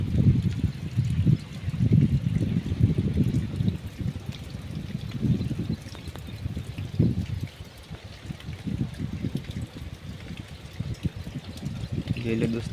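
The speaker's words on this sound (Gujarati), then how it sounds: "વરસાદ તો પાછો ચાલુ થઈ ગયો છે" Rain keeps falling and water runs and splashes across a flooded area where a parked car sits soaking, a continuous wash under someone talking close by.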